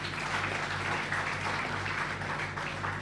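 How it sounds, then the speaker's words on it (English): An audience at a national schools debate grand final applauds in a dense, even patter of many hands clapping, sustained and fairly distant for the whole stretch. "You deserve all the applause."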